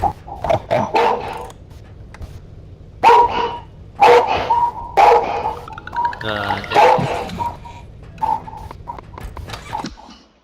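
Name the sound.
dog barking in video game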